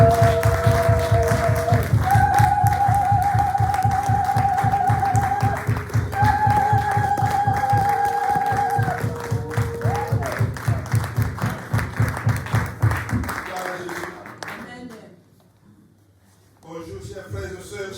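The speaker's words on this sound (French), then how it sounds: "nous allons l'acclamer, l'applaudir très très fort." A congregation at a Sunday church service claps in a steady, rhythmic beat beneath sustained sung or played tones, then the clapping breaks up and drops away toward the end.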